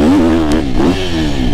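A 2024 250cc four-stroke motocross bike engine revs loudly and close, pitch rising and dipping briefly before climbing again in a strong, continuous buzz.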